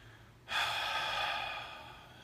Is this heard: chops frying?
no